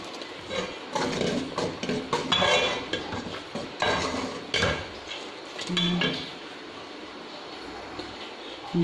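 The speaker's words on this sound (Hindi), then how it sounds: "चम्मच चलाते रहेंगे ताकि गुठलियाँ ना बने इसकी" A spoon scrapes and clinks steadily around a metal pot of milk thickening over medium heat for sawayyan, giving a busy run of close, overlapping metallic knocks and scrapes with no talking.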